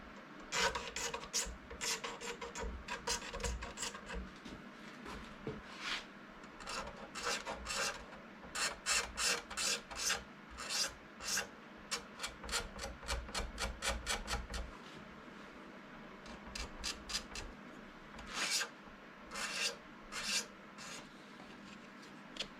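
Guitar frets on a cheap ES-335-style Juno project guitar being polished by hand, giving repeated dry rubbing and rasping strokes in uneven bursts, close and moderately loud with brief pauses between passes.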